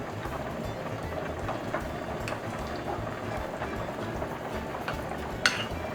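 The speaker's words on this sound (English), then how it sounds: "Mix it well." A spoon stirs a pan lasagna mixture with Parmesan cheese in a pan: a continuous close scraping and sizzling bed with occasional light clinks against the metal.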